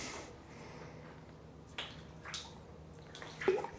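Epoxy floor coating is poured from a container onto a garage floor in short, quiet splashy gushes and drips, separated by near silence, with a couple of brief louder pours toward the end.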